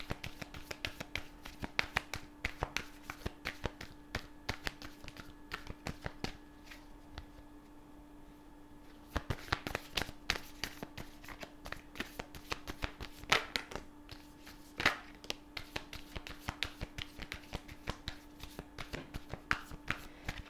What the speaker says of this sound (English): We're going to shuffle through these again.